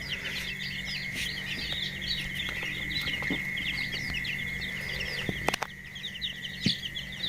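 Chicks and hens on a poultry farm raising layer, Fayoumi, Egyptian and native breeds: dense, continuous high peeping and chirping, with scattered clucks and a few sharp knocks over a steady background hum.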